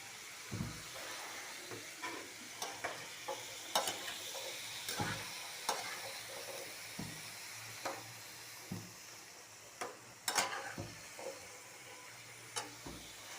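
Fish sizzles in a frying pan with a steady soft hiss, punctuated by repeated scraping and clinking as it is stirred and turned, close but fairly quiet, with no talking.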